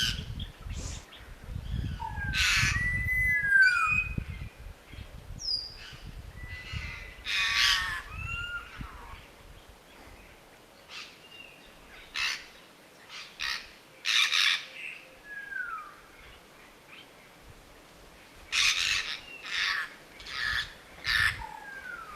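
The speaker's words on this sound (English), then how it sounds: "quick-ish video of that first sighting of breeding behavior of Timna parrots in Guinea-Bissau back in 2014" Timneh parrots calling around a nest cavity in Guinea-Bissau, with harsh squawks and whistled calls coming in repeated bursts over steady low background noise.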